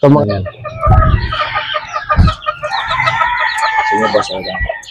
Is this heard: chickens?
yes